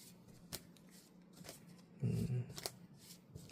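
Tarot cards are handled as one is drawn from the deck: soft papery slides and flicks, a few sharp close clicks, and a brief louder rustle midway.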